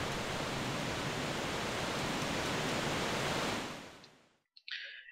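Steady, dense roar of a waterfall beside a small grotto in The Legend of Zelda: The Wind Waker, loud and continuous before fading out abruptly near the end, followed by a brief faint sound.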